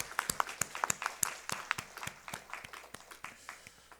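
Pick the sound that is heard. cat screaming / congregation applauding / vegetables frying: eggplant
congregation applauding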